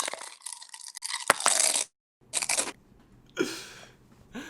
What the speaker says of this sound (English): Crisps time. Crunch.